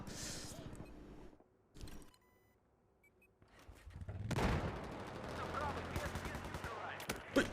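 Gunfire in the shooter game Battlefield 4 comes in sharp, separate bursts, then swells into a dense, rattling volley that keeps going toward the end, with one last loud crack.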